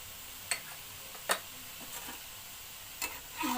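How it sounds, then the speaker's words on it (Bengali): Neem leaves and eggplant fry in a pan for a Bengali nim begun bhaja, a faint steady sizzle broken by a few light ticks and clacks of stirring. "ভালো করে নেড়ে মিশিয়ে দেবো আবার।"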